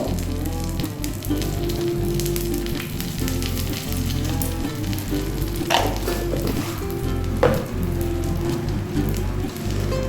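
Cumin, a bay leaf and green chilies sizzling in hot oil, a dense, crackling fry close by with a couple of sharper spatters or utensil knocks partway through.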